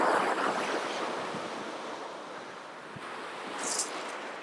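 Sea waves breaking and washing back off the shore beside Dovercourt Lighthouse on a stormy winter coast, a broad surging hiss with a crash at the start and wind buffeting the microphone, no voices.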